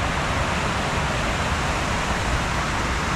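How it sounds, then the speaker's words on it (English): Mini waterfall in a park in Wales, a close, steady broadband rush of falling water with no other sounds over it. "There's a mini waterfall"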